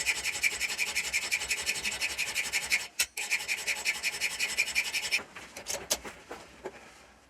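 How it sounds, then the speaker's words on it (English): Hand file rasping a steel blank for a pricking iron, fast rhythmic back-and-forth strokes close up, a brief pause, then slower, sparser strokes near the end. "so I need to use a file to get down to the final dimensions"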